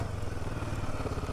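A Royal Enfield Himalayan 450 motorcycle engine runs with a steady, low, throbbing rumble, close and continuous, on a monsoon ride in Maharashtra.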